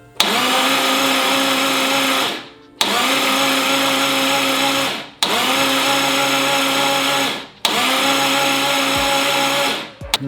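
An EG33 flat-six engine swapped into a Subaru STI cranks over on the starter to build oil pressure, four loud whirring bursts of about two seconds each separated by short pauses.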